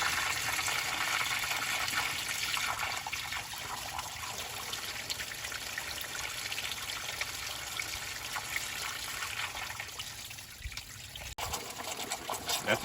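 Water trickles and splashes steadily into the engine of a 1967 Morris Minor, a continuous liquid pouring sound that fills the whole stretch with a brief knock near the end.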